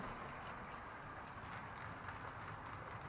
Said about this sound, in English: the train is disappearing